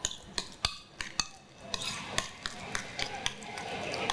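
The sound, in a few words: mixing prawns and rice with coconut oil, salt, pepper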